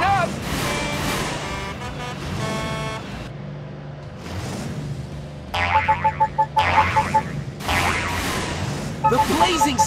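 A cartoon spring boing rings out repeatedly in bursts amid a monster truck race from the children's show Blaze and the Monster Machines, with music and engine noise underneath and a voice talking over parts of it.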